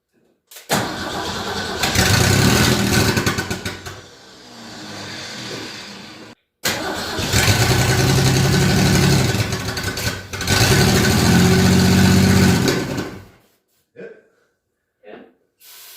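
A Ford Ranchero's starter cranks in two loud bursts separated by a brief pause. The engine catches and rumbles, then cuts out. Scattered short voices follow near the end.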